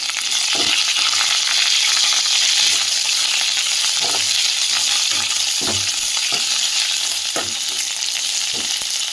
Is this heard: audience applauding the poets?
no